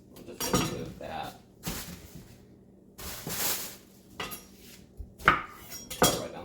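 A knife cuts through a cantaloupe on a board, with several close, uneven slicing strokes and scrapes and a few clinks, alone without talk.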